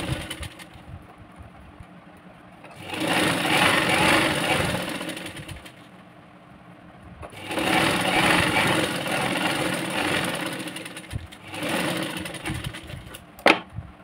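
A sewing machine runs in bursts while stitching the sleeves of a half-katori blouse, three loud whirring runs separated by quieter pauses, with a brief sharp click near the end.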